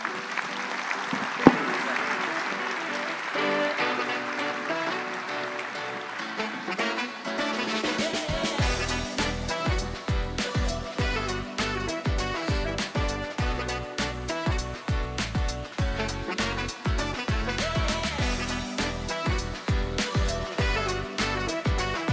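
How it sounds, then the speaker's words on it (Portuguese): A panel audience breaks into applause for the panelists after a quiet stretch, clapping swelling into a dense, sustained round that carries on for over ten seconds, with some voices mixed in beneath it. "uma salva de palmas aí a esses nossos painelistas, por favor"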